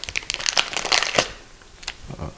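Plastic wrap is peeled off a Benro QRP95 quick rotating plate, with sharp crinkling and crackling bursts in quick succession, then quieter rustles and a final crinkle, close to the microphone.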